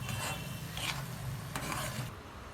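Paneer bhurji being stirred in a pan, a steady scraping and rubbing with a faint sizzle, close and continuous for a couple of seconds, with no talking.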